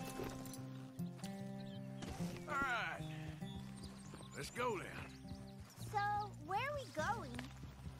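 A horse in the video game Red Dead Redemption snorts and whinnies over hoof clip-clops, several neighs rising and falling close by, with in-game music and voices underneath.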